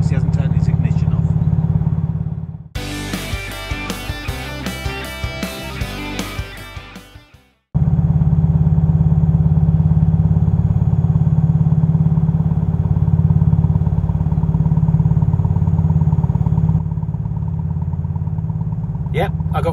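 A steady low diesel boat engine drone idles close by for most of the clip, after a brief burst of music near the start; a voice talks over it.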